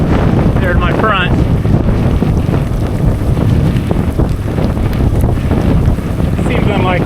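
Strong storm wind roars continuously across a sailboat's microphone at sea, loud and buffeting throughout with water rushing beneath and brief faint voices.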